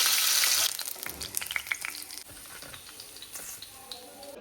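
Fish frying in a generous amount of hot oil in a home kitchen gives a loud, dense sizzle that settles into a steady crackle, with scattered pops and light stirring clatter and no talking.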